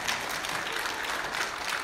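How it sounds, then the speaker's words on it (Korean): A church congregation at a Sunday worship service applauds, a steady wash of many hands clapping at moderate distance, even and unbroken from start to finish with no voices over it. "이런 좋은 시를 듣고도 아무 반응이 없어서 박수를 치든지."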